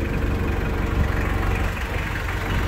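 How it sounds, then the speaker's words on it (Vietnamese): Toyota forklift engine idling with a steady, solid low rumble and faint vibration, continuous and close throughout with no talking. "tiếng máy luôn đầm chắc."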